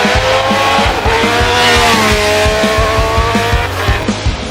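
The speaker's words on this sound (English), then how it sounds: "This machine not only made a sound like a race car, it also flew like one." A 1970s Honda CBX 1050 six-cylinder motorcycle roars loud and close, its high-pitched engine howl sustained with rhythmic pulsing as it revs through steady high-speed running.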